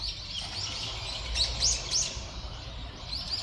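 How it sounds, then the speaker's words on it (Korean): Scattered high chirps from sparrows in a pine forest, a few short calls clustered together over a low, steady outdoor rumble, fairly distant. "참새 같은 게 요 소나무 숲에 숨어서 제잘거리고 있고"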